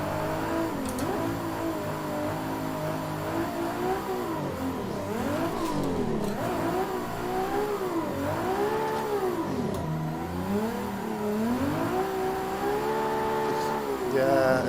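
A custom Nissan 370Z in a racing game revs under throttle, its engine note rising and falling in steady sweeps for the whole stretch and staying loud and close, with a voice speaking now and then.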